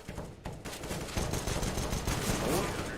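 Pistol gunfire during a competitive Counter-Strike match on Dust2, heard as a dense run of sharp shots and bursts that continues through the whole stretch, fairly loud, with a voice faintly underneath.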